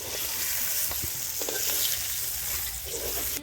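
Eggplant slices fry lightly in a pan of hot oil for a Bengali hilsa fish curry with potatoes, giving a steady, close sizzle with small crackles and no talking.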